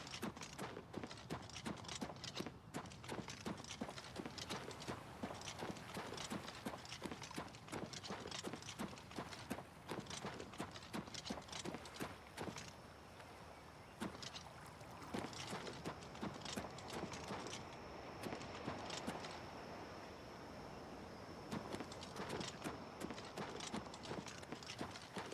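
Hooves of a paint horse clip-clop in steady walking rhythm throughout, close and distinct, in the video game The Elder Scrolls IV: Oblivion Remastered, with faint ambient background and a brief high tone in the middle.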